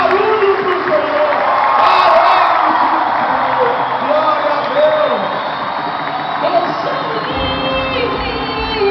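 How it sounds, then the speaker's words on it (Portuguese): Church congregation at a Catholic Charismatic Renewal gathering cheering and clapping, a loud continuous crowd roar with shouts and whoops, sustained throughout and easing slightly near the end. "pode aplaudir a palavra de Deus e faz barulho para o Senhor"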